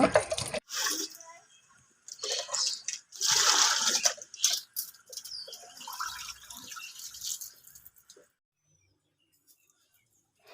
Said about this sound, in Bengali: এবার আমি আলুগুলোকে ধুয়ে নেব